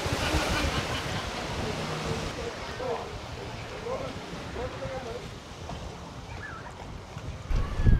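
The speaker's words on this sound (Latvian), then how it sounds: "Ja kādam interesē, mūsu laivai šādi 4 gabalu dzinēji." A motor boat with four engines runs on the open sea, its steady engine drone mixed with wind and rushing water, with faint voices in the background.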